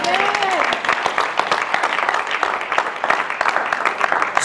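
A church congregation applauding during a sermon on the qualities of a wife, dense steady clapping that fills the room, with a brief voice rising over it at the start.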